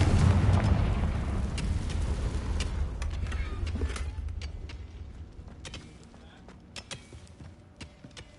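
Loud fiery blast from the Confringo spell in Hogwarts Legacy, a deep roaring burst that rumbles and slowly fades, followed by scattered small clicks and pops.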